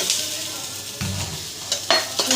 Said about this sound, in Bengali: হালকা করে ভেজে নেবো পেঁয়াজগুলো বাদামি করে